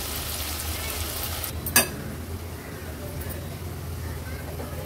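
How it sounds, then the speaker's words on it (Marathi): Onion and curry leaves frying in oil over a low to medium gas flame, a steady close sizzle throughout with one brief clatter early on. "कांदा तेलावर आपल्याला परतून घ्यायचा आहे।"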